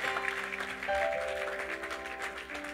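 Church congregation applauding in praise, a steady sustained wash of clapping with organ or keyboard chords held underneath, moderately loud throughout.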